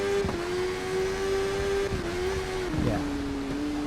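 A motorcycle in the TT Isle of Man road-racing video game, engine holding a steady high whine with several quick gear changes dipping and resuming the pitch, loud and close throughout.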